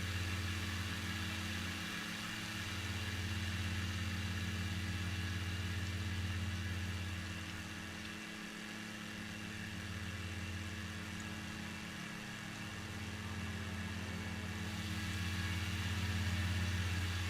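A stunt plane engine in a flight game drones steadily for the whole stretch, a low, even buzzing hum that swells and dips slightly as the aircraft circles, with no talk.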